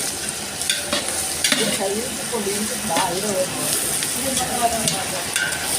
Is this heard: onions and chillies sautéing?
yes